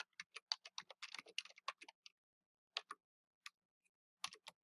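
Fingers type a password on a computer keyboard at home, a quick burst of close, crisp key clicks followed by a few scattered single taps with short pauses between.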